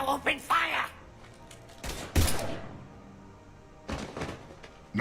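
Mass Effect 3 combat: a few sharp, booming gun bursts cut through a mostly quiet scene, with one strong volley in the middle and another near the end, with voices talking in between.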